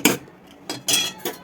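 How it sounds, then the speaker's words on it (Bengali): A metal spatula scrapes and clinks against a pot while stirring rice, giving three or four short, sharp metallic strokes separated by brief pauses, close and clear. "খন্তিটা দিয়ে নাড়াবো"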